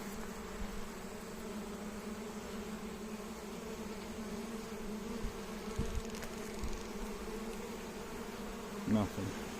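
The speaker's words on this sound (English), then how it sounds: "I just saw this huge bee." Bees buzz faintly around a beehive, a low, continuous drone with occasional nearer passes and a few soft knocks, all quiet and distant.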